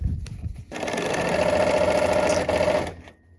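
A sewing machine runs steadily for about two seconds stitching a quilt block seam after a few soft handling sounds, then stops abruptly into quiet.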